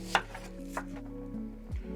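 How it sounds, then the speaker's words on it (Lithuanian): A few sharp knife strikes on a cutting board while finely chopping onion, irregular and close, over a low background hum with no talking. "pjaustomės svogūnas smulkiai"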